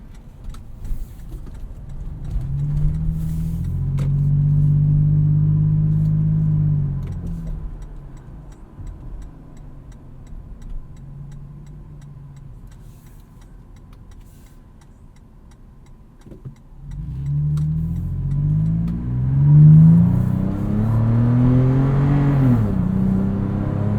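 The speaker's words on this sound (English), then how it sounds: "the GX definitely has its legs on the 4Runner, just pulling away from me a little bit, full throttle" A Lexus GX 460 and a 2020 Toyota 4Runner Venture accelerate at full throttle, heard from inside the cabin as a deep engine drone that rises in pitch through the gears, dips, then surges again.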